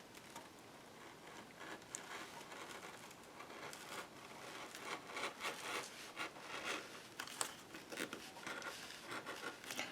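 Scissors snip around a paper image laid on a cutting mat, a quiet run of soft crisp cuts and rustles close by, growing busier toward the end, with no speech.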